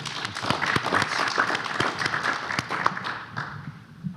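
A ballroom audience at a panel event applauds for a speaker, a scattered spread of claps that is fairly soft and even before it starts to fade.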